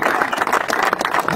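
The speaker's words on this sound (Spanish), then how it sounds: "señoras y señores, un aplauso grande" Audience clapping at a televised motorsport program's event in Cañada de Gómez, a dense, loud round of applause with scattered distinct claps, mixed with crowd voices and a talking presenter.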